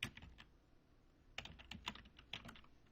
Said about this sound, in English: I need to type it here.